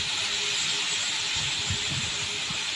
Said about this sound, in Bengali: পেঁয়াজ হালকা ভেজে নিলাম